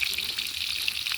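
Meat and potatoes fry in a pan at an outdoor night picnic, giving a dense, even hiss with light crackles that runs on without pause through the short moment.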